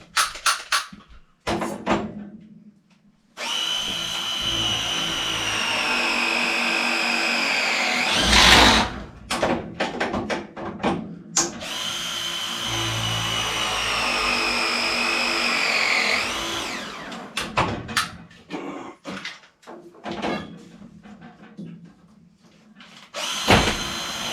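Screw gun driving screws during a water heater installation: two long, loud whining runs, each rising in pitch as the screw seats, separated and followed by brief clanks and handling knocks.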